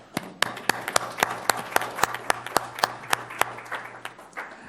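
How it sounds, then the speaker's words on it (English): A small group at a school board special meeting claps for two honored teachers, with steady, fairly close single claps in an even rhythm for several seconds before tapering off. "Let's give them a round of applause."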